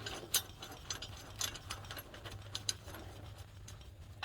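A ratchet wrench snugging bolts on the alternator of an 8.1 Vortec engine on a Workhorse motorhome chassis, giving quick rapid clicking bursts at close range, with a steady low hum behind it.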